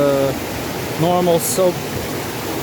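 Flowing water at a campsite in the Brazilian savanna rushes as a steady broadband wash throughout, while a person speaks briefly over it.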